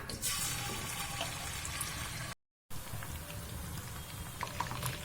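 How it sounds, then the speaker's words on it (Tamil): Marinated chicken 65 pieces fry in hot oil, making a dense, steady crackling hiss that drops out briefly midway, then resumes at the same level. "இப்ப நம்ம எண்ணெய் காஞ்சிடுச்சு, ஃப்ரை பண்ணிக்கலாம்."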